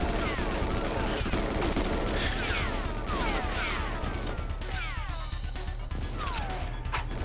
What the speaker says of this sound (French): je crois que c'était une grenade